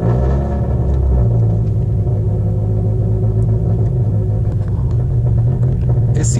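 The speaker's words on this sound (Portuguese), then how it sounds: "vamos fazer uma partida no carro" A naturally aspirated Ford Focus with a tuned 2.0 Duratec engine settles into a loud, steady, lumpy idle with a deep continuous rumble close to the microphone.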